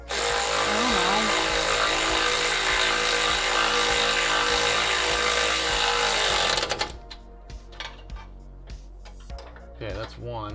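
A power tool tightens a screw in a garage, a loud continuous mechanical whir for about seven seconds that stops abruptly, followed by a few lighter clanks and knocks while people talk nearby.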